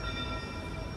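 A vintage excursion train on the line around Mount Rainier arrives, a steady broadband rumble with sustained tonal whine from wheels or horn, loud and continuous with no voices.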